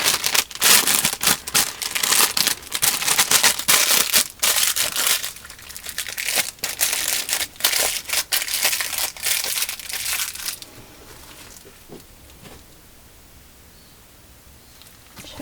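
Plastic piping bag crinkling and rustling as it is handled and snipped, dense close-up crackles for about ten seconds before fading to near quiet, no talking.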